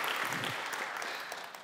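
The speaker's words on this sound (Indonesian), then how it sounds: "Tepuk tangan." A church congregation claps together during a worship service, a brief, dense burst of applause that stays fairly even and close.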